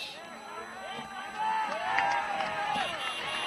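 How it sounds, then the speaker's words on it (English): Crowd at a country football match in the NCFL, Donald versus Sea Lake, cheering and whooping after a 40-metre goal kick; a broad, moderately loud roar that swells and holds through the clip with voices and shouts mixed in. "This time the crowd's a little bit more happy about it."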